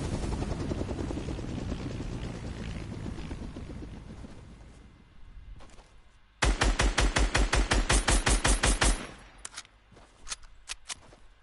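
A helicopter in the video game Fortnite: a steady rotor drone that gives way to a loud, rapid burst of chopping blade thumps lasting a few seconds, then fades to quieter scattered sounds.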